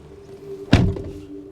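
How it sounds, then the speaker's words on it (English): A 2022 Skoda Slavia car door shuts with a single solid, close thud that fades quickly, set against a steady low hum with no talking. "Hear that reassuring thud again when you step inside your Skoda Slavia"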